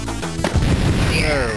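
A grenade blast in a first-person shooter video game, a loud low boom that swells after a short thud and rolls on with rumbling debris, while a muffled voice talks in the background.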